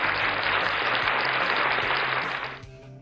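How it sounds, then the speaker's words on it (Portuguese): A round of applause for Brazilian voice actors, a dense wash of clapping that holds steady and then tapers off near the end. "uma salva de palmas para esses dubladores maravilhosos"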